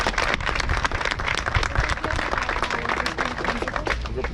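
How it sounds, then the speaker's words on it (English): Audience at a school re-classification launch applauding as the provincial education MEC enters, with brisk, fairly close individual claps forming an uneven, continuous patter. "Can we just give him a round of applause as he comes in?"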